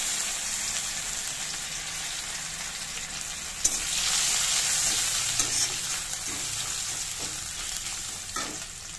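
Ginger, panch phoron, dried chilli and bay leaf tempering in hot oil for taro greens, a continuous close sizzle with occasional stirring knocks and a sharp clatter, no talk.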